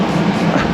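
A train stands at Uttaradit station on Thailand's Bangkok–Chiang Mai northern line, giving off a brief, loud, steady low rumble and hum close by.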